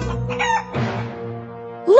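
A cartoon chicken in a Paw Patrol video game clucks and crows in short, loud, close bursts, with a rising squawk at the end.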